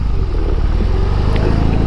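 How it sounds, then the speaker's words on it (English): A BMW boxer-engine cruiser motorcycle idling with a steady, loud, low rumble and a slight mechanical clatter, running continuously and close by with no voices over it. "They talk about that boxer engine rumble too"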